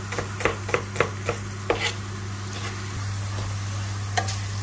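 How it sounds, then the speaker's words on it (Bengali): Onion and garlic fry in a pan while a spoon stirs them: a run of sharp scraping taps over a steady, close sizzle that carries on alone once the stirring stops. "পেঁয়াজ রসুনটা কিন্তু আমি ভালো করে ভাজি নিছি"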